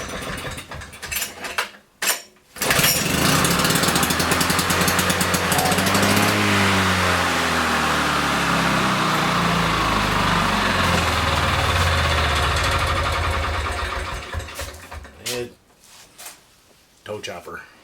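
A lawn mower engine sputters to life and runs loudly with a rough, steady rattle for several seconds, then cuts out, with brief clatter around it.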